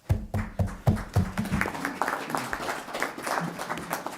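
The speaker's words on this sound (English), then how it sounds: "So a round of applause for everybody." Scattered, fairly quiet clapping from a small group at a board meeting, a few distinct claps up front that thin into lighter, uneven applause over a few seconds.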